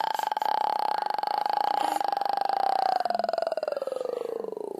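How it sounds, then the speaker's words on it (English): A baby lets out one long, loud, drawn-out burp that slowly falls in pitch, heard close and without other sounds. "Oh, good burps."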